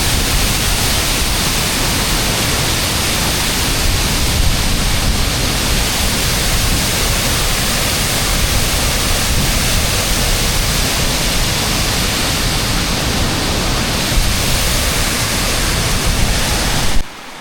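Loud, steady rushing of a waterfall on a cold-day bog walk by a river, a dense broadband roar that holds at full strength for the whole stretch and cuts off abruptly at the end.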